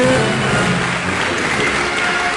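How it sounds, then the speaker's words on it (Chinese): An audience at a Suzhou Pingtan awards gala applauds warmly for veteran performers, a dense, steady wash of clapping that fills the whole stretch without a pause. "这些老艺术家每一位上场的时候，大家都是阵阵热情的掌声欢迎他们"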